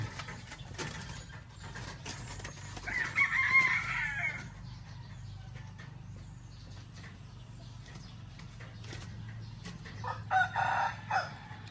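A rooster crows twice, far off, with soft clucking around it from laying hens on a layer farm, against quiet outdoor background noise.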